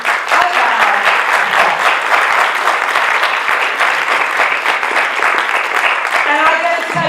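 A comedy club audience gives loud, sustained applause, dense clapping filling the room throughout, with a voice emerging briefly near the end.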